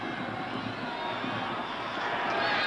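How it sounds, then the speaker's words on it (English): A stadium crowd at a Pittsburgh Panthers home football game roars for the Pitt defense against North Carolina. The broad, steady wall of noise swells a little toward the end. "Crowd is trying to exhort the Pitt defense here."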